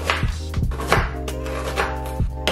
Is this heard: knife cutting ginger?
yes